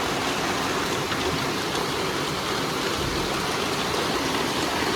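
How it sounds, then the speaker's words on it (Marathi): Heavy rain pours down steadily, a dense, continuous broadband hiss and patter that stays loud and unbroken throughout with no voices. "खूप मोठा पाऊस पडतो बघा."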